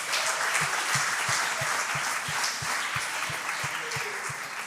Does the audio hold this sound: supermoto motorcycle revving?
no